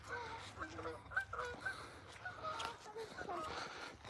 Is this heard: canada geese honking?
yes